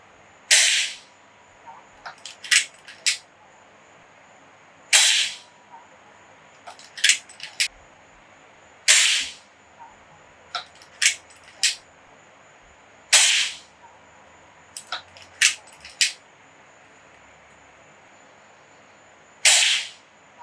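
An AEA Challenger Pro .30 caliber PCP airgun tuned to 180 bar fires 68-grain slugs in a backyard, with sharp, loud cracks spaced a few seconds apart, each followed by fainter clicks and ticks of cycling and handling.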